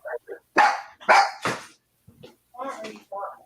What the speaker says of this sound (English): She's wanting your attention is why she's barking.